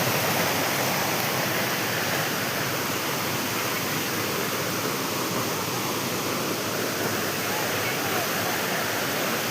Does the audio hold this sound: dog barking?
no